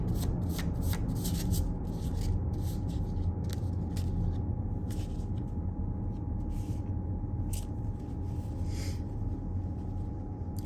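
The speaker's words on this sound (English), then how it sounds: "as I'm shuffling the cards" Continuous papery riffling and snapping of tarot cards being shuffled close by, steady for the whole stretch with small bursts of flicking, no voices.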